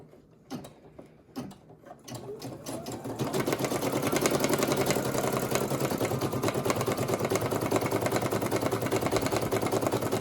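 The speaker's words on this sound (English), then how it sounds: "All right, so let's go ahead and embroider." After a couple of clicks and clunks, a Brother SE1900 embroidery machine starts stitching a heart applique, settling into a fast, even mechanical chatter of needle strokes that stays close and continuous.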